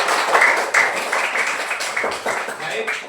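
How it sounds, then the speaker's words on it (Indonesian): Children in a primary classroom clap together after a group song, a bright run of claps in uneven bursts with a voice heard among them. "Kasih tepuk tangan untuk kita semua."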